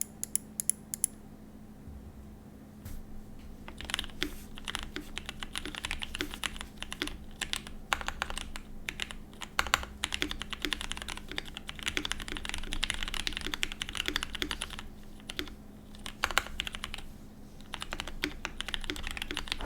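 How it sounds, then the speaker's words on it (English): Typing on a KBD67 Lite R2 gasket-mount mechanical keyboard: quiet clusters of close, crisp key clacks in irregular bursts, sparse at first and then steadier, with brief pauses and no talking. "there's one more thing I have to talk about, and that's how the typing actually all pans out."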